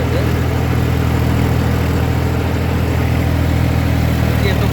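A tractor drives a Shaktiman rotavator through a banana field, cutting through banana stalks under load. Its engine makes a loud, steady, continuous drone close by, with no talk.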